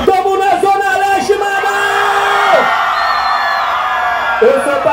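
A concert crowd at a Brazilian funk show roars, whoops and cheers continuously, loud and dense, with individual shouts and yells rising above the mass.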